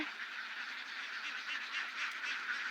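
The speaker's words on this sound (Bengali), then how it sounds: "এখানে আবার হাঁস পালে," Ducks quack and chatter in a continuous, fairly distant flock, a soft busy babble with no single bird standing out.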